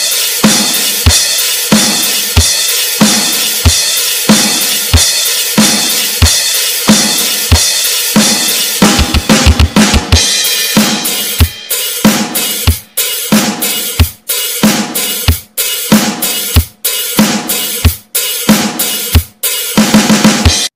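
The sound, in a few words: drum kit playing beats 5 to 8 combined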